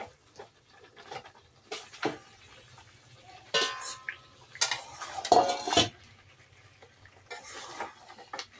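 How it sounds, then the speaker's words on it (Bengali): Chicken pieces are stirred and fried in spice masala, with irregular clinks and scrapes of a spoon against the pot, some louder clatters and a faint low frying hiss between them, close and without talk. "এবার আমি এর মধ্যে চিকেনগুলিকে দিয়ে সুন্দর করে কষিয়ে নেব"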